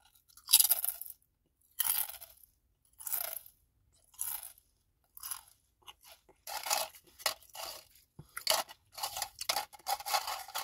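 Fast, close crunching of Herr's jalapeno kettle cooked potato chips, a steady run of sharp bites and chews that grows quicker and denser toward the end, with no talk.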